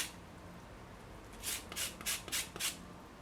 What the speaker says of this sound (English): Just gonna zest our lime.